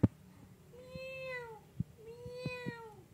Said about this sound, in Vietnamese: mình quay con mèo đi